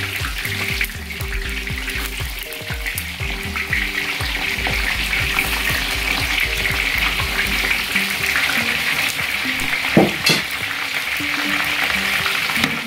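Onions sizzling and crackling in hot oil with browned meat in a large pot for Uzbek Qashqadaryo-style plov, a dense continuous fry close up, with stirring scrapes and a brief clatter partway through.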